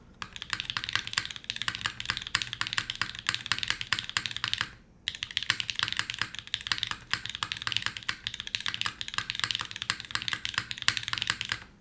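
Rapid, steady typing on a mechanical keyboard whose spacebar has had its gasket removed, with crisp close-up keystrokes continuing almost unbroken and one short pause midway.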